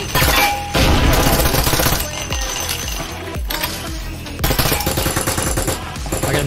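Loud bursts of shotgun and automatic gunfire in the tactical shooter Breachers, hard sharp blasts with glassy clinks and debris between volleys, close and dense with short pauses.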